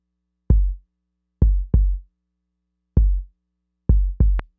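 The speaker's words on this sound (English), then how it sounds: "Let's listen to kick two." Second kick drum sample in a Pro Tools session, six deep booming thumps with longer low-end tails, the last hit carrying a sharper bright click on top.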